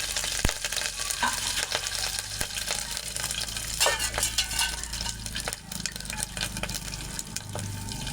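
Curry leaves sizzle and crackle in hot oil as a tempering for rasam, a steady loud frying hiss over several seconds with occasional stirring clinks of a utensil against the pan.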